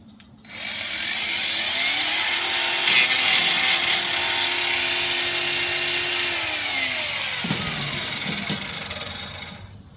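A Hychika 20V 4 1/2 inch cordless angle grinder spins up and runs with a loud, steady whine for several seconds, briefly shifting pitch midway before winding down at the end.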